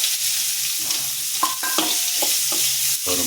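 Onions and chillies sautéing in a tempering, with a spatula stirring the pan in quick scrapes over a steady sizzle that stays close and fairly loud throughout.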